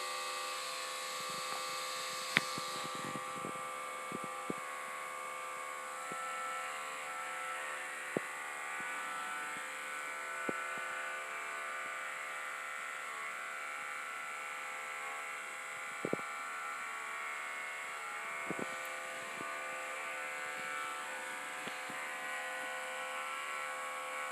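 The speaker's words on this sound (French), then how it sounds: "Encore à l'aide de la tondeuse de cheveux." Steady electric buzzing of hair clippers running continuously, with faint clicks and brief contact noises as they move, no voices.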